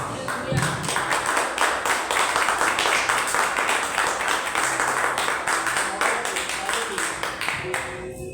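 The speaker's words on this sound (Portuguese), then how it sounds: "desocupe a sua mão e aplauda Jesus" A church congregation claps in a strong, steady rhythm, the beats close and lively, with some voices mixed in beneath the clapping before it stops abruptly at the end.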